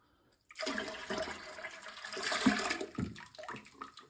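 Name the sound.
toilet flushing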